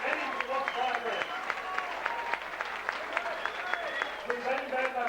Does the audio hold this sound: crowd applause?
yes